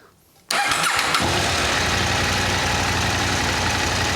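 A KTM LC8c motorcycle engine, a warmed-up 790, catches after a short crank and settles into a loud, steady idle that runs without a break to the end, with no voices over it.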